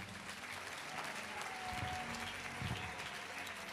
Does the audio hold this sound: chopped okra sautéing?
no